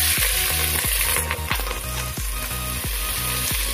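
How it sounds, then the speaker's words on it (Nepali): Pieces of mutton hit hot oil with fried dry spices and sizzle loudly and steadily, while a spoon scrapes the pan roughly twice a second as the meat is stirred. "म मासु राखेर मजाले चलाउँछु"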